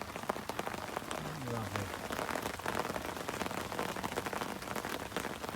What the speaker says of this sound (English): It's very wet on the park. Absolutely raining cats and dogs.